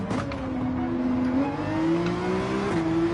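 A race car in Gran Turismo 7 accelerates hard on a hilly track, its engine note climbing steadily with a gear shift near the end, loud and continuous with no talk over it.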